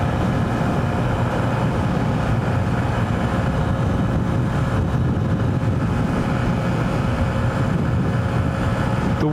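A lightweight motorcycle cruising on a freeway in gusty wind, its engine drone buried under loud, constant rumbling wind noise that persists without a break.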